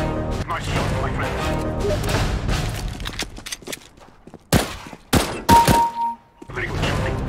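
Gunfire and impact bursts in a shooting video game, a run of sharp loud cracks in the middle with dense game sound and voices before and after.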